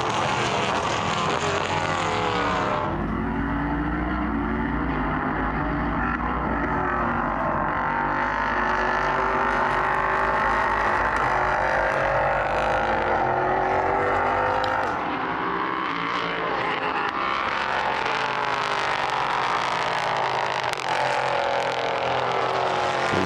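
Race car with a VK56 5.6-litre V8 engine at a prototype sprint cup race, a loud sustained engine roar that rises and falls through gear changes and passes close by, with no talking.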